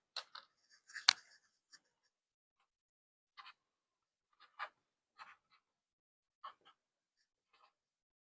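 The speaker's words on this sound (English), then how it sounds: "I'm just going to write with marker." A marker writing on cash envelopes, heard as a few short, quiet scratchy strokes separated by pauses, close up with no talking.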